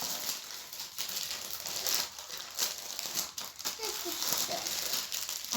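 A big lollipop's plastic wrapper crinkles and crackles up close in bursts while children chatter and laugh.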